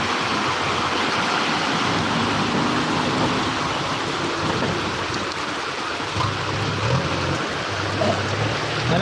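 A loud, steady wash of heavy monsoon rain and running water in Chiplun, dense and continuous, with a faint low hum underneath.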